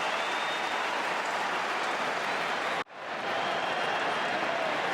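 A large Australian rules football crowd at the AFL State of Origin bushfire appeal match roars and applauds a goal, a dense steady wash of cheering that cuts out briefly midway, then swells back to full strength.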